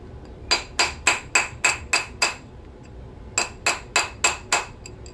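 A spoon ring on a steel ring mandrel struck by a hammer in two quick bursts, seven sharp ringing metallic blows then a pause and six more, close and loud with no talking.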